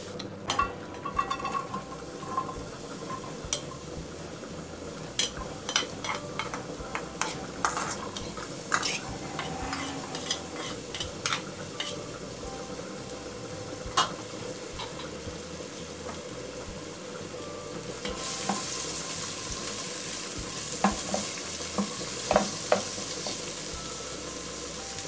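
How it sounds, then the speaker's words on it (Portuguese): Oil sizzles and crackles steadily in a pan, with crushed garlic added for vegetable broth, occasional stirring scrapes and clinks, the frying growing brighter and hissier toward the end. "Aqui nessa panela, liguei o fogo, vou colocar um pouquinho de óleo."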